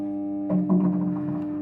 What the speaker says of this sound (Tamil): சவுண்டு மட்டும் கேட்குது ஹம்மிங் சவுண்டு மட்டும்